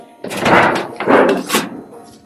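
A door at a rural property where a pole barn is being built opens or closes in a few broad, scraping bursts over about a second and a half, fairly close, with no talk.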